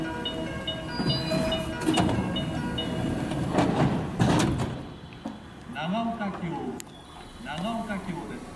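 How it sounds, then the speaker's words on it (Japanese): JR Kyoto Line train doors sliding shut at Nagaokakyō station, with a few dull thumps over idling train hum, followed by a public-address voice. "ドアが閉まります。ご注意ください。"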